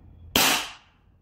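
A single sharp shot from a WE Glock 17 Gen 5 gas blowback airsoft pistol, a loud close crack with a quick hiss of gas trailing off, alone in a quiet room.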